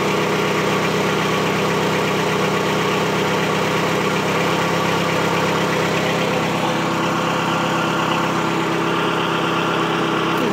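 A 1985 Cadillac Cimarron engine idles steadily after months of sitting, a constant close, loud mechanical drone with faint vibration and no voices.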